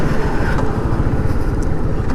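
A 2024 Yamaha MT-15 155cc motorcycle being ridden near a toll plaza, with a loud, steady engine and wind roar that stays continuous throughout and has no talking.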